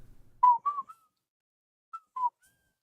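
Short whistled notes from a person on a livestream, partly cut out by noise filters, come as a few clipped bursts: two near-together tones, a pause of silence, then two more brief ones.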